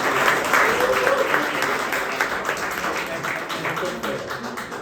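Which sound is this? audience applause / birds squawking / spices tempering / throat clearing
audience applause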